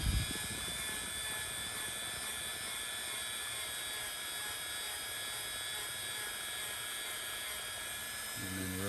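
A Dremel rotary tool whirs steadily as it cleans the rolling pins of a Lionel O-gauge caboose, a continuous high-pitched motor whine held close and level with no talking.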